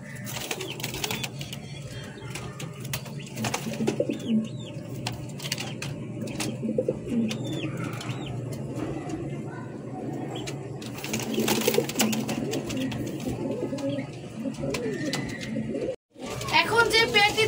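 Pigeons coo close by in a loft where white and black running pigeon pairs are kept, their low throaty calls repeating under someone talking throughout, with wing flutters and some chirps.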